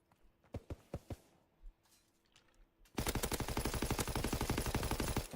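A shooter video game delivers a few separate gunshots, then a loud, sustained burst of rapid automatic fire with evenly spaced shots.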